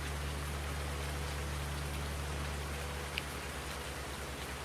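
Steady rain falls in the farming video game Farming Simulator 19, a constant hiss of drops under a low hum, with one brief tick near the end.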